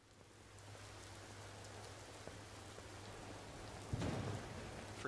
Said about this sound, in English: Freaking rain, of course.